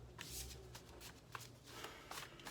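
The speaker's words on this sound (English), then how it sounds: "Let me shuffle this." A deck of tarot cards is shuffled by hand, giving a faint run of quick riffling flutters and soft slaps in uneven bursts, close and quiet with no talk.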